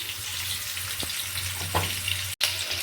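Potatoes frying in oil in a pan give a steady, close hiss of sizzling, with a couple of faint stirring taps partway through and no talking.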